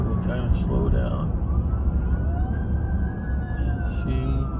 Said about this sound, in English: Is it more than one set of sirens or just one?